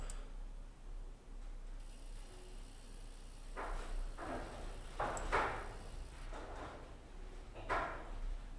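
A small Arduino-driven motor turns a 3D-printed standby compass for a home flight simulator, making faint, close mechanical whirring and clicking in several short bursts as it spins to its zero position.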